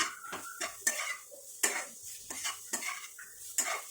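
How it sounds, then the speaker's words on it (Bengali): Masala being stirred and fried in a pan over a low flame, with a utensil scraping and clinking against the metal in repeated strokes under a soft sizzle, quiet and close. "দু মিনিটের মতো নাড়াচাড়া করে আর লো ফ্লেম করে ভেজে নিলাম"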